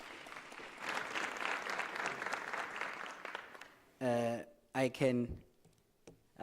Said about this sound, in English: Can we please give him a warm round of applause as he's taking his seat?